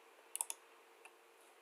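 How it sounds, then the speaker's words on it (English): Mouse clicks while setting up a RHEL 7.0 virtual machine: a quick cluster of three crisp, faint clicks near the start, then one softer click about half a second later, in a quiet room with no talking. "So I'll click edit right here."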